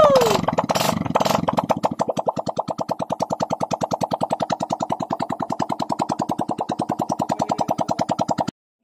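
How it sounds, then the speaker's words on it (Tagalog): A Yamaha Vega 115 FI motorcycle engine, freshly reassembled after a cylinder head grind, starts with a few revs and then settles into a steady, rapid single-cylinder idle that runs evenly until it cuts off abruptly. "Maganda rin ang andar ng kanyang motor."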